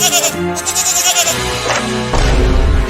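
A cartoon goat bleats loudly in a series of quavering cries over a busy, layered soundtrack, and the final cry is thick and noisy.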